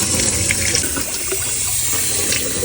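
Tap water in the Philippines runs steadily throughout, a continuous broadband rush close to the listener, with no talking over it.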